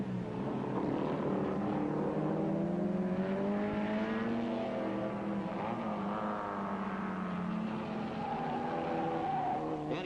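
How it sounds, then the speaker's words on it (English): Race car engines at Mosport circuit in 1962, a steady rising and falling engine drone with wavering pitch sweeps as cars pass, continuous and moderately distant without talk. "Stan Burnett, though a stranger to Mosport, is driving well"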